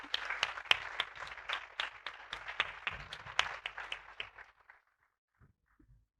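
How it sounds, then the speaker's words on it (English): Conference audience applauds for the speakers, a moderate burst of many hands clapping that fades out after about four seconds into near silence. "the third round of applause is for our awesome speakers"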